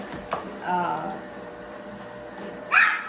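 A dog barks nearby, one brief yip early and then a louder sharp bark at the end, in a quiet kitchen.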